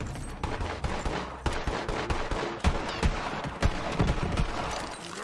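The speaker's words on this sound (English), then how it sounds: "They're all shooting at me." Rapid enemy gunfire in the video game Borderlands 3, a dense run of overlapping shots and bursts filling the whole stretch at steady loudness, with no talk over it.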